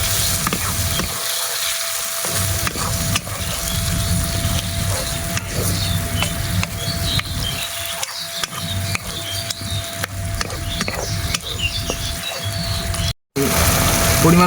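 Egg biryani masala with chilies, coriander and mint being stirred in a clay pot, a steady scraping sizzle with spoon scrapes and clicks, broken by a brief silence near the end, with no talking.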